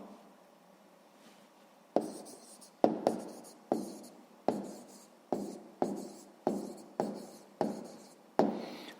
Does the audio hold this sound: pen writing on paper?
yes